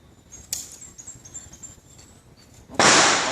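Gunshots in a video game ring out as a sharp crack early on and a much louder close blast near the end with a lingering noisy tail, over a faint high whine and no talking.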